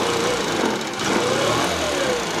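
A Kymco Super8 4T scooter engine with a carburetor problem buzzes close and loud as it revs, its pitch climbing and wavering with a slight stumble instead of rising cleanly; no one speaks.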